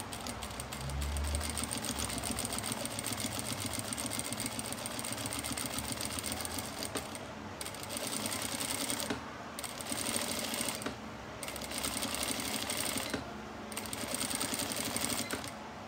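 Sewing machine stitching fabric for a craft basket, a steady fast mechanical whir and rattle running continuously, broken by a few brief pauses near the end, close and alone without talk.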